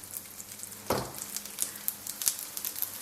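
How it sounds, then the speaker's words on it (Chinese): Sesame-coated layered flatbread dough sizzles as it hits a preheated, oil-brushed griddle pan, a burst of frying hiss followed by steady crackling and a few sharp pops, close and alone. "饼铛预热刷油， 油热后放入生坯"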